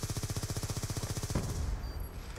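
Rapid automatic gunfire from the video game Call of Duty: Black Ops 2, a steady burst of closely spaced shots lasting over a second, then cut off abruptly.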